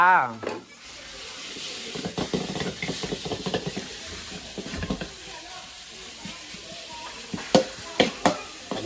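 Pork stir-frying in a round wok for a Thai basil stir-fry after garlic, a steady sizzle with scraping spatula strokes and clanks, metallic knocks growing louder near the end, voices talking over it.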